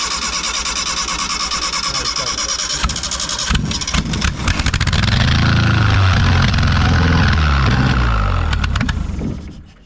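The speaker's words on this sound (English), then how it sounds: "I listened to it that time and that engine ain't got a rattle on it. She runs." An Austin Ten Special engine cranks on the starter for a few seconds, catches and settles into a loud, steady running note close by, then cuts out at the end.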